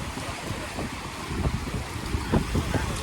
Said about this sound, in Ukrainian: Зараз тут великі хвилі.